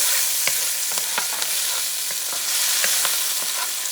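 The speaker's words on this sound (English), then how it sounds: "Add the garlic, and now I'm creating my sofrito." Garlic in a sofrito for a braised beef neck bone stew sizzles loudly and steadily, and scattered pops and stirring clicks sound close by with no talking.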